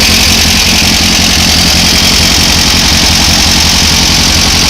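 A VW 2-liter engine idles steadily with a rough, even mechanical chug and broad hiss, close and loud throughout, no voices.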